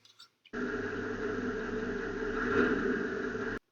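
A warmed-up REO M35 military truck engine idles after repairs, a steady rumble continuing for about three seconds after a brief faint noise, holding an even, throbbing drone at close range.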